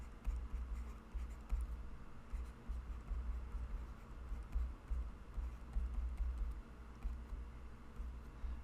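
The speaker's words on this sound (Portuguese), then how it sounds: "Vamos escrever aqui" Chalk or marker writing on a board during a geometry lesson, a steady series of soft scratching strokes with brief pauses, faint and close, without talk.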